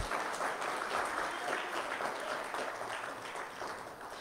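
A church congregation claps in praise during a live-streamed sermon, a steady wash of many hands sustained loudly and evenly throughout with no break.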